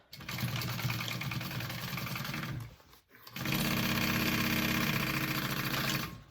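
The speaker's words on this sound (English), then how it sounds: "We're just sewing the sides of our pocket up" A sewing machine runs in two steady bursts as it stitches the sides of a bag pocket, with a continuous mid-pitched motor whir and rapid needle clatter that pauses briefly near the middle before resuming.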